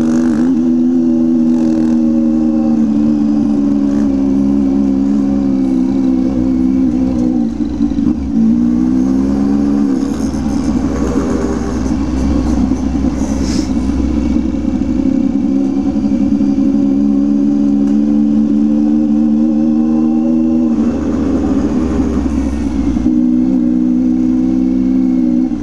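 A motorcycle engine revs up and down repeatedly, loud and close, with a steady rumbling idle between the throttle bursts.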